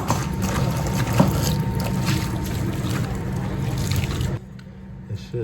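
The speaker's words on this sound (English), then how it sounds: "What you do is you pour boiling water on top of that." Boiling water poured over a salmon to loosen its scales, a steady splashing, rushing pour that runs for about four seconds and then stops abruptly, leaving near-quiet.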